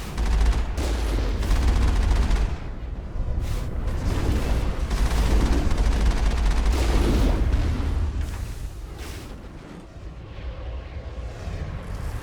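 Vehicle-mounted gun in Mass Effect launching slow rockets, a dense rumbling barrage of booming shots and explosions that stays loud for most of the stretch before easing off near the end.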